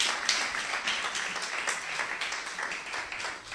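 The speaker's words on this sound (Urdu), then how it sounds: "آئیں یسوع کے جلال کے لیے زوردار تالیاں بجائیں" A church congregation at a Christmas service claps loudly and steadily in a sustained burst of applause that fills the room without a break.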